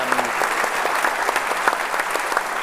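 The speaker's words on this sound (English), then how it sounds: "please give an applause to Solange." A conference audience in the Assembly Hall at Church House Westminster applauds, a steady wash of many hands clapping that fills the room and keeps up evenly throughout.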